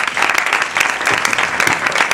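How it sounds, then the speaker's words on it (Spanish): An audience claps steadily and loudly at a talk, a dense sustained patter of applause throughout with no voices standing out. "Por favor, un aplauso para Juan."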